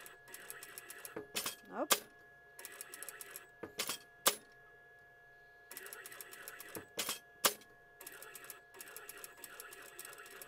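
A sewing machine stitches a double seam on a rag doll's trapeze dress in short, quick rattling runs separated by pauses, with a few clicks and a brief spoken word between bursts.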